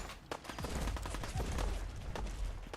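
Rapid bursts of video game gunfire from Fallout aimed at mutated crocodiles, dense overlapping shots in a steady barrage with fairly low overall level.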